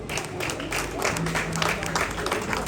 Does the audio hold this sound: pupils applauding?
yes